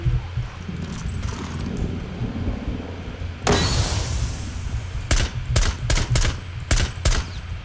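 Gunfire from Rainbow Six Siege shot through a smoke cloud, a sudden dense burst followed by several sharp separate shots close by over a steady in-game background.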